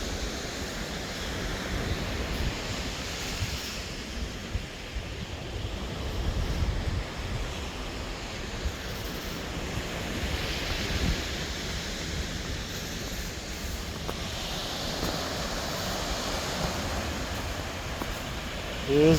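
Ocean surf and wind on a snowy beach during a blizzard at Coney Island, a steady broad roar of waves with gusting wind buffeting the microphone throughout.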